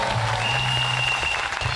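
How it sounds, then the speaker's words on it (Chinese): Studio audience at a Taiwanese television variety show applauding in a steady, dense wash of clapping that holds evenly for the whole stretch, with faint voices buried underneath. "给他们掌声鼓励一下"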